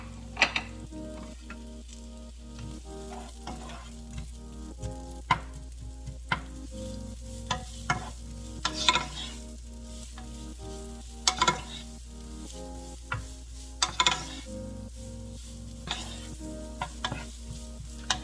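Whole garlic cloves and onion sizzle and fry in a pan over medium heat, with steady crackling and frequent utensil stirs and clinks scattered throughout, no talking.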